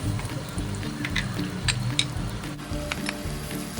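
Garlic and onion sizzling in hot oil in a pan, a close, steady crackling fry with occasional stirring scrapes.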